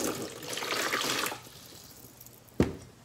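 Warm water poured for sourdough pita dough, a soft running splash about a second long, close and fairly quiet, then a single sharp knock.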